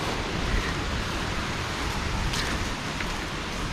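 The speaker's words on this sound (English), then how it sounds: "Waterfall ahead." A small waterfall on a forest trek in Tenkasi gives a steady, full-band rush of falling water, continuous and fairly close, with no talk over it.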